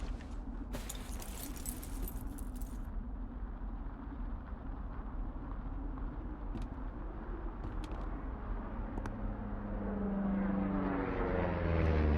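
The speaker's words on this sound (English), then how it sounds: "You see that plane?" Propeller airplane passing overhead in the wilderness setting of the game Firewatch, a steady low drone under ambient sound that swells and grows louder toward the end.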